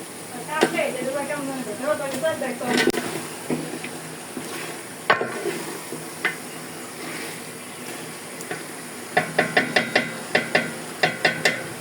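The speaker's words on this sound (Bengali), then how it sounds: "এখন মুরগির পিসগুলো দিয়ে দেবো।" Chicken pieces are added to a pan of spices cooked down with sour yogurt, giving a soft sizzle with sharp clatters and a run of quick metallic knocks near the end, under a talking voice.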